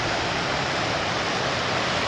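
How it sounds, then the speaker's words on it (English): A waterfall and rapids roar beside a bridge on a wilderness hiking trail, a loud, unbroken rush of white water heard up close with no other sounds. "But waterfalls and rapids coming here to the bridge. That thing is roaring."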